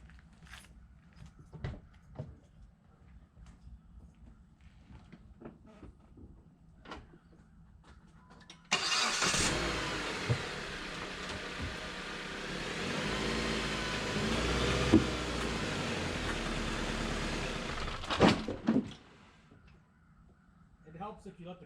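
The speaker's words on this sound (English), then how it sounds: "Now we'll start the car up and drive up." Quiet clicks and shuffling, then a Jeep Patriot/Compass 2.4L engine cranks and catches, running loudly and steadily for about ten seconds before cutting off.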